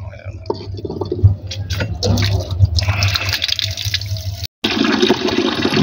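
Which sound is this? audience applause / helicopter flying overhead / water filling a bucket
water filling a bucket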